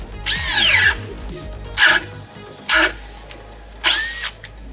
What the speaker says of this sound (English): Then we'll grab the leading 18-volt competitor.